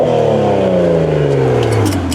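A BMW Z4 M40i with an upgraded full exhaust revs loudly, the engine note falling steadily as the revs drop, with a few faint crackles near the end.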